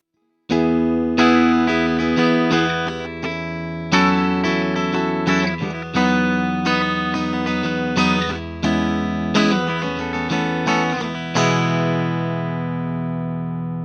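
Distorted chords strummed on an Ibanez S561 electric guitar with the split humbucker in blended coil position, a series of loud ringing strums with sustained decay and no talking.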